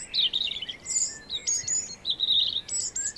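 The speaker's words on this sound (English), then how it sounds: "In the upper stories of the forest, all the birds are looking for partners. The robin is one of the first," A robin sings in a spring forest, its bright high chirps and trills repeating in quick phrases, fairly close and clear above a quiet background.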